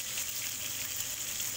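Chicken wings fry in hot oil, giving a dense, steady hiss of sizzling with no pauses.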